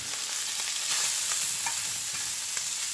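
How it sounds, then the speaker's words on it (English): Unfrozen sausages browning in a hot frying pan give a steady bright sizzle with light stirring scrapes and pops, close and alone without talk. "The pan was nice and hot, and the sausages here weren't frozen"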